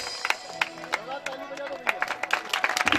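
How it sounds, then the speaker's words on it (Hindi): Audience clapping at a Shrimad Bhagwat Katha religious gathering in a village in Sehore district, Madhya Pradesh, with irregular claps that build toward the end while a voice carries on over them. "तालियां द्वारा उनका स्वागत करिए।"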